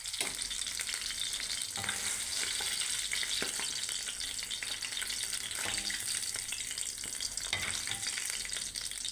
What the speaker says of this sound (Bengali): মাছ ভাজা হয়ে গেছে, এখন তুলে নেব।